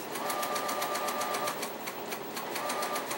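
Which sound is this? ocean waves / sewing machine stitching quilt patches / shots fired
sewing machine stitching quilt patches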